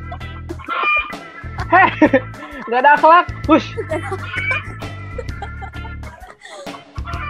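Chickens clucking noisily close by, repeated bursts of clucks mixed with people talking and a brief shushing.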